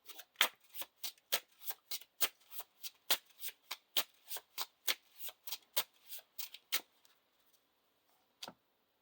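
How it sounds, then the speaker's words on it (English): A deck of encounter cards for The Lord of the Rings card game is riffled repeatedly, about twenty crisp, evenly spaced shuffling snaps close by, then a pause and one last snap. "Shuffle the encounter deck."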